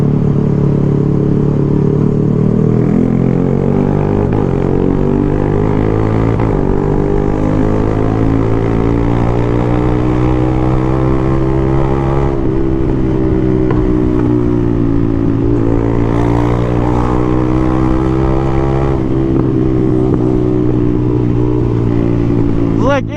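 A Yamaha R6 sport motorcycle passes nearby with a loud, high-pitched engine whine that rises and falls as it goes by, under ongoing talk from a rider.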